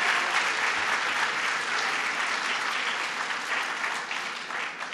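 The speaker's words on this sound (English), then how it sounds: "Let's give him a round of applause." Sustained applause from a large audience at a governor's bill-signing event, steady and bright, tapering slightly toward the end.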